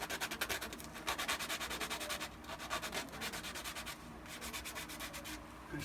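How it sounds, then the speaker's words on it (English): Sandpaper rubbed in quick, steady back-and-forth strokes along the edge of a Shadow Trooper armor piece, a faint rhythmic scratching with no talking. "I'm going to take some sandpaper and just sand that down quick."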